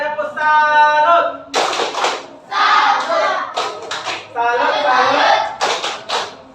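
Schoolchildren in a classroom perform the rhythmic clap chant, sharp bursts of many hands clapping in a patterned sequence alternating with a teacher's and pupils' shouted calls.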